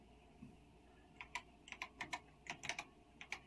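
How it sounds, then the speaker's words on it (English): Someone types on a computer keyboard, producing about a dozen quiet, close clicks in an uneven rhythm with short pauses between them. "by just typing run"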